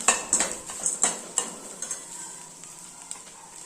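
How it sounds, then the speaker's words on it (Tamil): Dried red chillies roasted in a pan for chutney, a series of sharp metallic scrapes and clinks of a spoon against the pan over a continuous sizzle, close, fading to softer stirring. "காஞ்ச மிளகாய் அது ரொம்ப வறுபட வேணாம் அதனால தான் கடைசியாக போடுறேன்"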